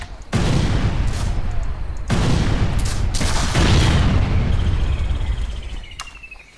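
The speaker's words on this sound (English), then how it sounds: "Those are close enough for my guys to finally put a volley into them." Musket volleys crack out in the land battle of the video game Caribbean!, several loud, dense bursts of gunfire rolling together with booming echoes that slowly fade away.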